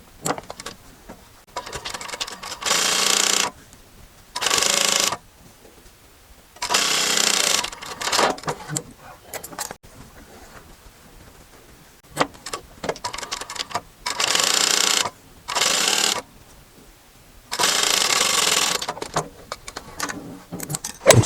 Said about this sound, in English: So now we're sewing up our 4 sides, straight lines, very simple